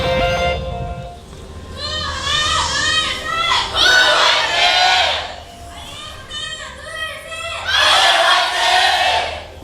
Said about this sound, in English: IM wins the cheer wars once again